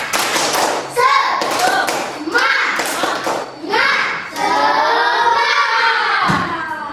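Classroom of schoolchildren doing a rhythmic spirit clap together, patterned group claps mixed with loud chanting voices, close and lively indoors.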